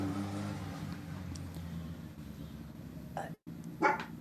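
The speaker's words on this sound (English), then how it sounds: "Oh, the dogs!" Dogs bark in two short bursts near the end, fairly close, after several seconds of low engine rumble from a car in the background.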